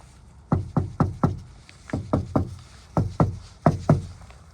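Knuckles rap on a car door treated with Siless sound deadener, giving short, damped knocks in small groups of three or four, close and clear with no talk.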